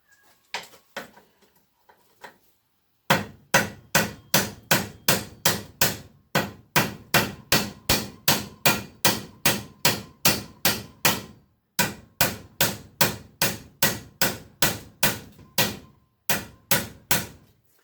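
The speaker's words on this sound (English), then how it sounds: "we're going to pound these back down with a hammer." Steady, rapid hammer blows flattening metal parts of a Volvo Penta reverse lock, evenly spaced sharp strikes repeating for many seconds after a few scattered taps, with one brief pause midway.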